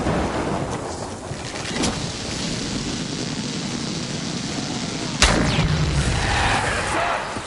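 Electrical storm in a video game, with a steady roar of rain and rumbling thunder throughout and a sharp, loud thunderclap crack near the end.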